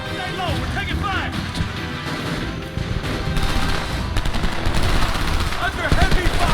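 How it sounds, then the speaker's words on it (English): Rapid bursts of gunfire in the video game Homefront crackle continuously amid explosive battle noise, with shouted voices over the shooting. "Stay low, we're taking fire!"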